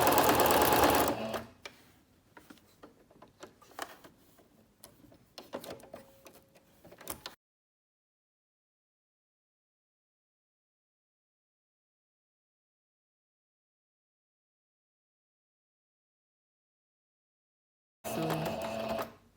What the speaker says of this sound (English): So I'm going to start to sew.